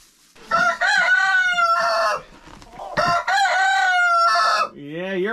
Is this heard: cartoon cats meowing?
no